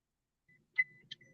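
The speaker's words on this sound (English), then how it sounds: "Sorry for the beeping." A car's seatbelt warning chime gives two short, clear electronic beeps inside the vehicle, fairly quiet, with faint low rumbling around them and no voices.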